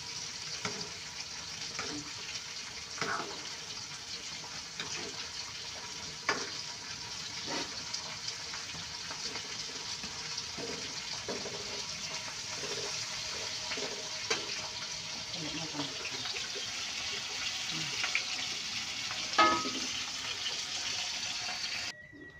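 Steady crackling sizzle of salted fish frying in hot oil, with occasional louder pops and faint clinks throughout, close by and continuous.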